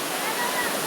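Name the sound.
waterfall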